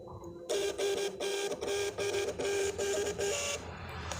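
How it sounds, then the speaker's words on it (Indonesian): Label printer printing a shipping receipt: a close mechanical whir with a pulsing, stepped rhythm lasting about three seconds, starting abruptly and stopping before a quieter tail, no talking. "Nah, kemudian saya akan coba ngeprint."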